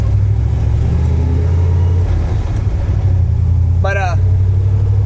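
A turbocharged 1976 Ford F250 truck engine with a 331 drones loud and steady up close as it revs, with a low rumbling hum and a short spoken phrase near the end.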